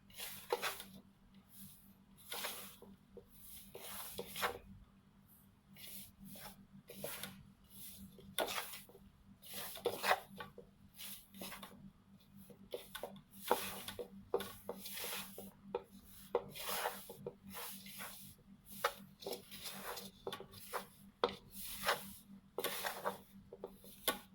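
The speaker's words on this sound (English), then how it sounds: "You just have to mix the flour and the dough, the butter together until it forms a dough" Hands working flour and butter together into curry puff dough, a steady series of soft rubbing, squishing strokes close up, with a low background hum and no talking.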